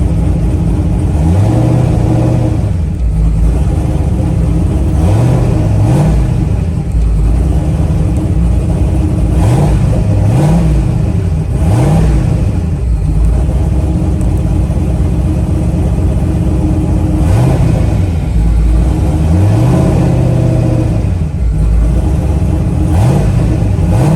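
A car engine fitted with an Aeromotive fuel regulator setup revs up and drops back again and again in loud, close bursts over a steady idle, with no talking.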